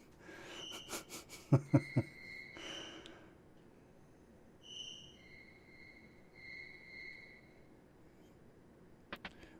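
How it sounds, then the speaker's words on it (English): Crickets chirp at night in the Final Fantasy V video game, with short high electronic trills and tones over a faint background, interrupted by a few sharp soft thumps, with no talk. "The crickets are keeping him awake."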